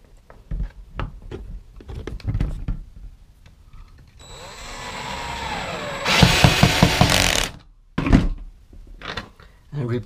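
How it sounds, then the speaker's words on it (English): A power drill bores a hole through the plastic wall of a Rubbermaid Big Max 5x6 storage shed, a loud sustained whine for about two seconds after a quieter earlier run, with clunks and handling noises around it. "I'm going to drill a hole at this space and insert a screw to lock it, the wall to the base."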